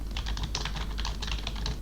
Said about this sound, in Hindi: अब आपको MS वर्ड ओपन करना है और यहाँ पे टाइपिंग शुरू कर देनी है।